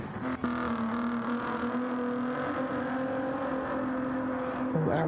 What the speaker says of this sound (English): Oh, we can hear the car sliding.